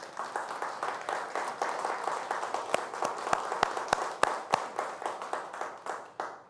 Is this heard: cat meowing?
no